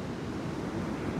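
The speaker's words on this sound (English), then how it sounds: "The ocean can't stop." Ocean waves washing onto a beach, a continuous dense roar of surf with wind, steady and close, no voices.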